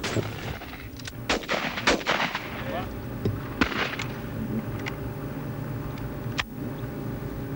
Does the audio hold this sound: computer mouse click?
no